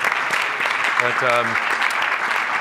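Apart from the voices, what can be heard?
applause for a panel speaker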